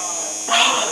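Electric toothbrush buzzing close by beside Hopper, a big black cat, a steady high-pitched whine that grows louder and harsher in the second half of one short second.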